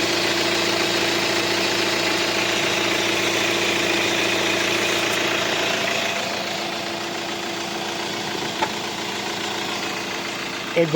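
A 2016 Hyundai Creta 1.4 idles steadily with a constant low engine hum and mechanical vibration, close by and fairly loud, easing slightly after six seconds with a couple of small clicks near the end.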